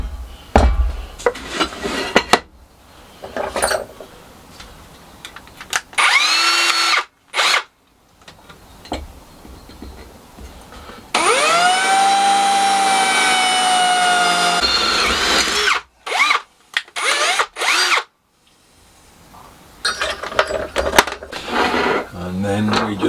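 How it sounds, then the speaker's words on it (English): Power drill boring a pilot hole while building an engine stand, with several short whirring bursts and longer runs of the motor, close and loud, mixed with handling knocks. "Pilot hole first."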